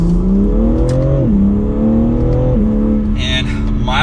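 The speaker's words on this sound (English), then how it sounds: "we're going to give it a little bit of gas from 2nd gear" A 2022 BMW M3 Competition accelerates from second gear, its engine note rising steadily in pitch, dipping briefly at an upshift, then climbing again, loud inside the cabin with a voice talking over it.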